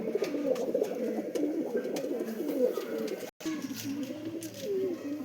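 Giribaz pigeons coo softly and repeatedly at a close stand with a mated pair, low throaty rolling calls overlapping in a steady murmur, with a brief dropout midway.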